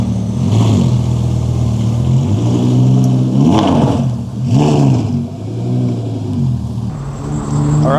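A gated Audi R8 V10 fitted with a Valvetronic exhaust revs loudly and close under load, its engine note climbing and falling through several sweeping surges before settling back to a rough idle.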